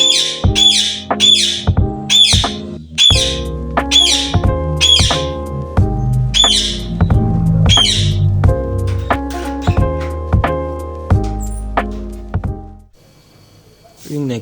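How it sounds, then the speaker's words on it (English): An Indian ringneck parrot gives loud, close, repeated harsh squawks in a rapid rhythmic series for about twelve seconds, then falls quiet before a final call. "They are known for their loud calls and ability to mimic human speech and other sounds."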